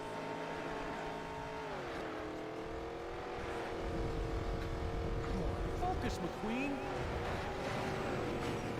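Cars race in the Cars video game on PSP, with engine drones rising and dipping through gear changes and a denser rumble later, heard under a person talking.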